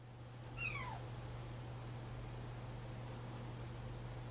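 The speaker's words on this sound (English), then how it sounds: "Little kitten's meowing." A kitten gives a single short, high meow near the start, fairly faint against a steady low hum and background hiss.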